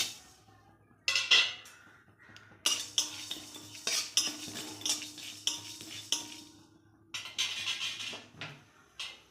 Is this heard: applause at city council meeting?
no